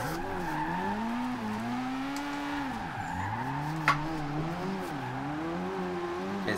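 Nissan Silvia S15 in Forza Horizon 2 with rear tires spinning up, a steady loud engine drone rising and dipping in pitch under continuous tire squeal, one brief sharp click midway, no talk.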